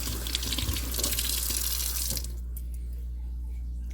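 Gold-tone jewelry chain rinsed under a running kitchen tap, a steady close splash of water that cuts off abruptly about halfway, leaving only quiet room hum.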